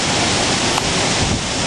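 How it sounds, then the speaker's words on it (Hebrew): A flash flood waterfall in Nahal Zin in the desert roars as a dense, steady rush of water, loud and continuous with no voices. "המפל של הצין"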